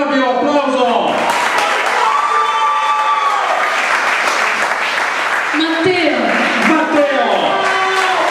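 An audience claps and cheers steadily as a musician is called onto the stage at a live concert, a dense, continuous wash of applause with an announcer talking loudly over it.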